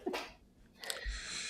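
A single close, quiet sneeze, with a sharp inhale followed by a quick burst, in a quiet room.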